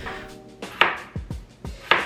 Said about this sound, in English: We're cutting up some carrots, peeling the potato,